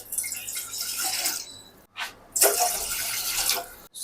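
Water pours in bursts into a cooking pot, splashing and rushing close up with short pauses between the pours.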